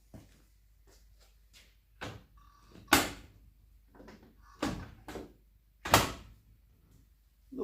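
A car door on a 1968 Datsun 1000 barn find is shut carefully several times, giving a few sharp metallic thuds and clunks separated by quieter handling noises.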